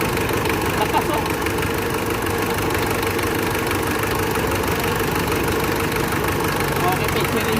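A Mitsubishi engine with a timing belt fault runs steadily at idle, giving off a continuous mechanical rattle and knock, heard close up with voices talking over it throughout.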